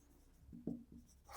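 Fractions are handwritten with a pen on paper, a faint close scratch with a couple of short strokes that is quiet and brief.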